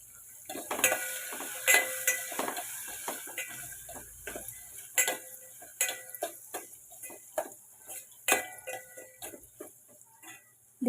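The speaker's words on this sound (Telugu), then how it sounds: "ముందు ఉల్లిపాయ, పచ్చిమిరపకాయ వేసుకుందామండి" Onion and green chilli frying in a pan for a ridge gourd curry, with crisp sizzling and a string of sharp stirring clicks and taps against the pan, close and steady.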